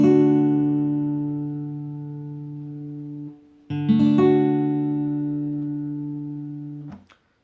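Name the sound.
acoustic guitar chord strummed on the highest four strings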